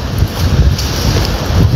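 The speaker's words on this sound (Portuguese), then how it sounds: "um vento que está tocando as águas para a costa" Wind blows steadily across lagoon water toward the shore at Lagoa dos Patos near Arambaré, a loud continuous rushing with microphone buffeting and no voices.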